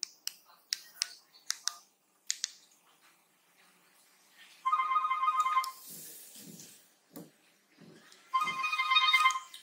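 A Grandstream WP810 Wi-Fi phone rings with an incoming call, two bursts of a bright electronic ringtone separated by a pause, preceded by sharp clicks of handling and button presses.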